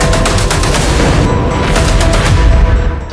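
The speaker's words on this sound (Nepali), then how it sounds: "गाजा पट्टी में एक भी ऐसा मिनट नहीं है जब इजरायली रॉकेट या बम नहीं बरस रहे हैं।" Bombing and gunfire from Israeli strikes on Gaza, loud dense bursts of rapid shots and booms rolling together without pause, fading slightly at the very end.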